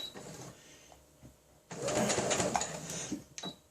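Sewing machine stitching a small fabric pouch: a quiet start, then a dense burst of rapid mechanical needle chatter for about a second and a half, ending in a brief back-stitch whir.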